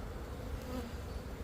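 A steady swarm of bees buzzing close by in stored beekeeping equipment, a dense continuous drone that holds for the whole moment with no voices.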